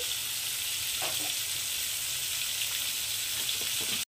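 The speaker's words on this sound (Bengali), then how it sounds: "তো পটলগুলো এবার লাল লাল করে খুব সুন্দর করে ভেজে নেব" Sliced pointed gourd frying with a pinch of chili powder and sugar in a pan, giving a steady, soft, even sizzle with a few faint stirring clicks throughout.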